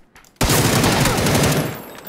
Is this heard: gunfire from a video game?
yes